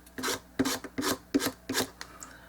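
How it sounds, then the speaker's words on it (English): Short back-and-forth sanding strokes rasp against a small wooden dollhouse door frame, about four or five quick scratchy passes in close succession, near and fairly loud with no talking. "So I'm going to support this and I'm going to sand."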